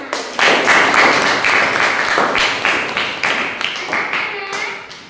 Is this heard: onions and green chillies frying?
no